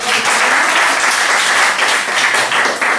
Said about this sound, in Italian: Ok, un applauso anche qui.